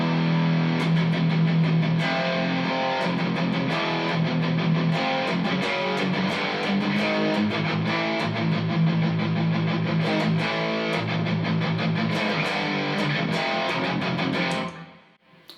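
A loud, heavily distorted electric guitar plays a dense, continuous riff with steady strummed attacks, then cuts off abruptly near the end.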